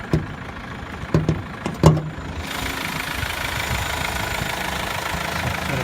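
Mazda 1.5 Skyactiv turbo diesel engine idling steadily, close up with a gritty diesel clatter, preceded by a few sharp clicks and knocks.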